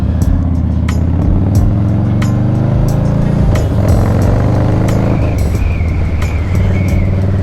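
Road traffic rumbles steadily close by during a ride, with a continuous low engine drone and a few passing vehicle swells, no voices.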